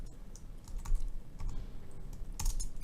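Code is typed on a computer keyboard in quick, uneven bursts of close key clicks, with a louder cluster of keystrokes near the end.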